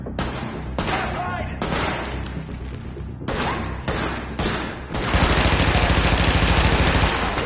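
Video game gunfire in The Division, loud and close: a run of separate shots and bursts that turns into sustained rapid fire near the end.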